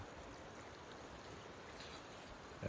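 Steady broadband rushing of a mountain river in the Ariège Pyrenees, continuous and fairly close, with a brief louder thump right at the end.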